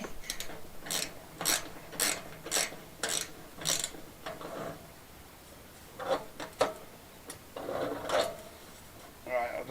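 A ratchet tightening a flue fitting: a close run of quick evenly spaced clicking strokes, then a pause and further bursts of clicking and metallic handling, with people talking quietly at points.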